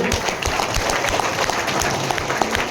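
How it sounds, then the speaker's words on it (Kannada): A crowd at a direct-selling training seminar in a hotel hall claps in a sustained burst. The applause is dense and even, with individual claps audible throughout. "ಒಂದು ದೊಡ್ಡ ಚಪ್ಪಾಳೆ ಬರ್ತದೆ, ಹೌದಾ?"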